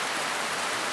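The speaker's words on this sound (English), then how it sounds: "It hasn't stopped raining 3 days I've been here" Heavy tropical storm rain in Papua New Guinea pours in a dense, steady hiss, a brief but continuous roar of falling water with no voices.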